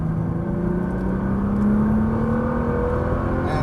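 A Nissan GT-R accelerates hard on a race track in Las Vegas, its engine note rising steadily in pitch as it pulls through the gears, loud and close throughout.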